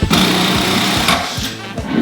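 Close and loud, an impact drill hammers during a home renovation, rattling in quick repeated bursts with a harsh buzzing edge.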